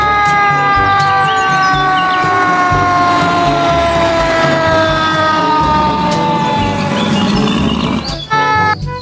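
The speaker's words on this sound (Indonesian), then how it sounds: "Yang ini ada mobil pemadam kebakaran." A toy fire truck's siren wails loud and close, with a continuous electronic warble that runs unbroken for several seconds, then ends with a short burst of mechanical clicks.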